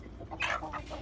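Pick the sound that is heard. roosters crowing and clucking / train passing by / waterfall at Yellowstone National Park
roosters crowing and clucking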